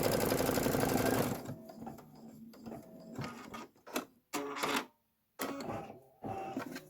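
A home embroidery sewing machine stitches a sign placement line onto felt, a loud rapid mechanical whir for about a second, then scattered quieter clicks, thumps and short bursts of machine noise with brief silences.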